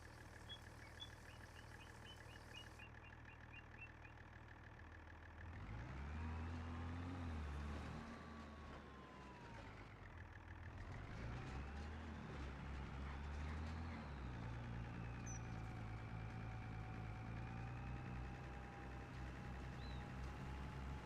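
A farm tractor in a farming video game runs with a steady engine drone, which swells louder partway through and stays rough and continuous to the end, with no talk.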